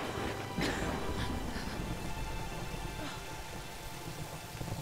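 Steady rainfall hisses across the whole stretch in the video game Tomb Raider (2013), a dense broadband wash with a few brief louder splashes or knocks near the start, fairly even in level throughout.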